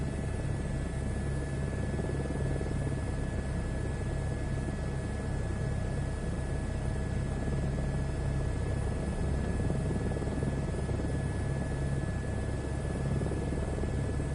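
A helicopter flies in Microsoft Flight Simulator 2024 on PS5, a steady rotor-and-turbine drone holding at an even level for the whole stretch with no voices.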